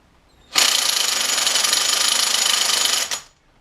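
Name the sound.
electric spanner spinning an alternator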